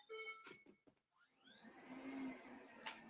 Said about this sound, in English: You're going to hear this sound, right? We've got this robot Hoover that we installed today.